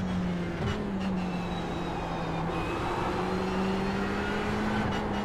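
Engine of a Ferrari 488 GT race car in iRacing at Daytona, a steady sustained drone holding a near-constant pitch with slight shifts, running alone without talk.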